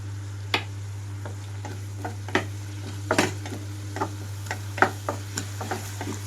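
Fenugreek leaves with a little salt frying in a pan for lasooni methi curry, giving a soft crackling sizzle with scattered light ticks and stirring scrapes over a steady low hum, no voices.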